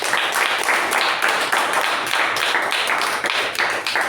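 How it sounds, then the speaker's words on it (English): Toastmasters meeting attendees clap for two distinguished Toastmasters in a close, loud, continuous burst of applause with sharp individual hand claps throughout. "Please give them a round of applause."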